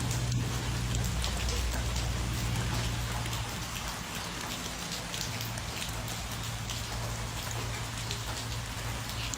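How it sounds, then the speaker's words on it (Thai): Heavy rain pouring steadily beside a busy road, a dense constant hiss of drops on surfaces with a low rumble of traffic underneath, continuous and close throughout. "เพื่อนๆโอ้ฝนตกหนักเหมือนกันนะทุกคน ตกตั้งแต่เมื่อคืนแล้วค่ะ"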